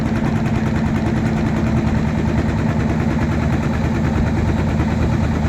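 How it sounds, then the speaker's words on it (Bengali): The Gazi Express passenger river launch runs at high speed, its engine a loud, steady low drone with a constant rumbling throb and no pauses, close by. "দুর্দান্ত গতিতে এই মুহূর্তে গাজী এক্সপ্রেস তার লঞ্চকে ওভারটেক করতেছে"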